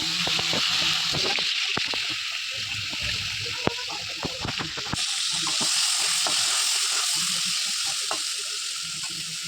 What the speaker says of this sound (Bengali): এদিকে চিংড়ি মাছ আমি বসিয়ে দিয়েছি ভাজা হওয়ার জন্য।